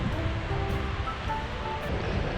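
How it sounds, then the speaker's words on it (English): Atlantic Ocean surf rolls steadily at a Hither Hills State Park oceanfront campground in Montauk, Long Island, a continuous broadband wash of waves with wind, no voices heard. "Behind me is the Atlantic Ocean."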